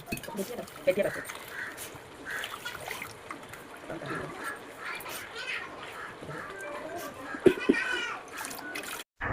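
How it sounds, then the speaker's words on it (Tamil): Water trickles and splashes as it is poured into a spice masala for chicken curry, followed by irregular stirring and scraping sounds in a bowl, close up, with no talking. "தண்ணி ஊற்றி நல்லா கலந்துக்கோங்க"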